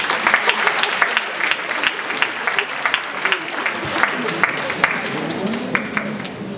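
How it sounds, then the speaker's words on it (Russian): An audience at a brass band concert applauds, a sustained round of clapping with distinct sharp claps popping out near the listener, while voices murmur underneath. "Дамы и господа, аплодисменты."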